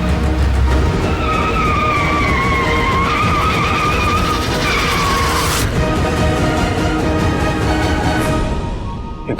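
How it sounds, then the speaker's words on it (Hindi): A car skids as it loses its balance on a road, its tires squealing in long wavering wails over a loud engine and road rumble. The squeal cuts off sharply partway through. "ये गाड़ी का बैलेंस अचानक से कैसे बिगड़ गया?"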